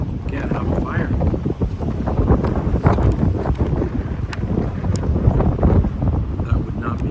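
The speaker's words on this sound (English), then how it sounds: "I can eat this meal regardless of this wind." Strong wind buffets the microphone at a lakeside spring camp on Georgian Bay, a steady loud roar with gusts that runs the whole time, while a person talks underneath it.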